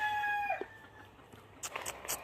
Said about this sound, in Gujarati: આજે હું તમને દેશી કૂકડા બચ્ચા બતાડીશ